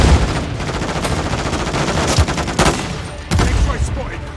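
Akimbo shotguns fire in Modern Warfare 3 during a hardpoint match, with loud, sharp blasts in quick bursts over constant game noise and clatter.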